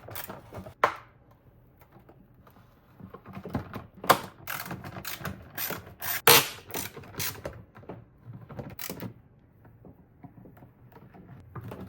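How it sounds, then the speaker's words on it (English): A 3/8 ratchet works on fasteners under the hood of a 2002-06 Honda CR-V during transmission cover work, giving irregular bursts of close, crisp mechanical clicking with sharper knocks and quiet gaps between. "Just takes a 3/8 ratchet."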